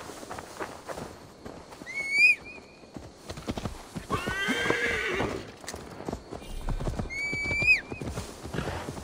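Two sharp, high horse whinnies ring out in Assassin's Creed Valhalla amid busy hoofbeats, with a snorting, blowing neigh between them and footsteps scuffing underneath.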